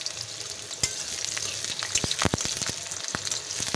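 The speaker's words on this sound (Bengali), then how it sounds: "দিয়ে আলুটা ভেজে নেব" Potato pieces fry in hot oil in a wok, giving a steady bright sizzle broken by sharp crackles and the clack of a spatula stirring.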